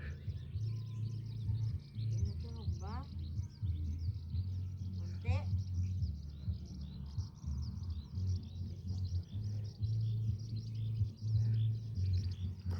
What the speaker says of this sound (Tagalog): Pakinggan nyo po yung tunog ng mga ibon.